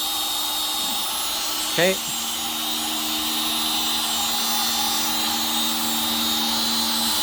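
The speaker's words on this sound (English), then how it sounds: "So let's go ahead and turn on the CNC." CNC machine cutting a guitar neck at aggressive feeds and speeds, a steady high-pitched whine with a constant tonal hum running the whole time, plus a short burst of louder noise near the start and a brief spoken word.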